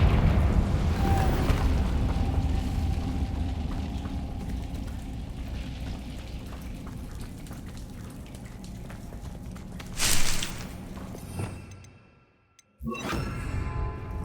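A Confringo fire spell explodes in Hogwarts Legacy: a long roaring, crackling rush of blast noise fades slowly, then a sharp whooshing burst, a brief near-silent gap and another crackling surge.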